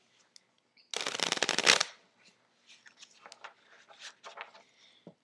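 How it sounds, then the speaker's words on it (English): A Black Tiger deck of playing cards gets a quick riffle shuffle, a loud, close, rapid burst of flicking cards lasting about a second, followed by softer scattered card taps and handling clicks. "I'm going to give my deck a shuffle."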